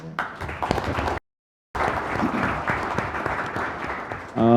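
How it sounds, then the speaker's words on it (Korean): An audience at a policy debate on the mobile content industry claps steadily, broken by a brief gap of silence before the applause returns and holds, with a voice breaking in at the end. "애국심을 가지고 박수 한번 보내주세요."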